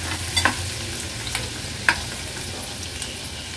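Garlic cloves and green chillies fry in hot oil with a soft, continuous sizzle, broken by a few sharp scraping clinks of a spatula stirring the pan nearby.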